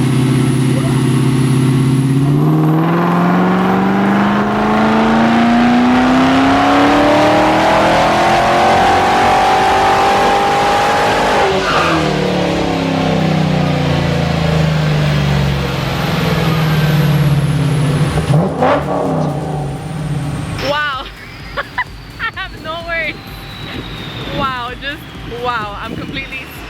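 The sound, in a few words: 2019 Camaro ZL1 1LE engine revving during dyno pull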